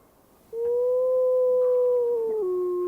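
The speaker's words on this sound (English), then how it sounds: "Big Gray howls for the pack." A large gray wolf in Yellowstone gives a single long, clear howl from fairly close, rising slightly then holding steady before dropping in pitch near the end, over a quiet outdoor background.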